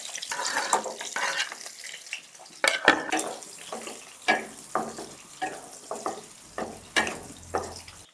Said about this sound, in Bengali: কেটে রাখা পেঁয়াজগুলোকে দিয়ে দেবো